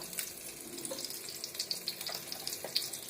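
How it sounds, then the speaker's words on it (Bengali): Hot cooking oil in a pan, boiling hard before turmeric and spice paste go in, crackles and spits in a soft, continuous sizzle of small pops, heard close and alone. "একটু হলুদ দিই, না হলে খুবই ফুটছে তেলটা"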